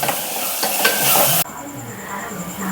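Coconut, ginger and garlic paste with tomato being sautéed in a pan, a loud, close hiss of frying with spatula stirring that cuts abruptly to a softer, steadier sizzle.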